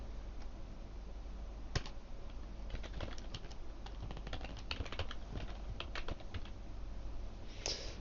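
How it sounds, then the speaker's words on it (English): Quick, uneven keystrokes clatter on a computer keyboard while someone plays Minecraft, sharp clicks bunching into bursts and short pauses over a steady low room hum, close and moderately quiet. "my typing skills are falling apart"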